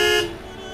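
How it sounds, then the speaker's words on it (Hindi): A vehicle horn gives one short, loud toot close by, cutting off after a fraction of a second and leaving a fading tail. "अरे ये कौन हॉर्न दे रहा है"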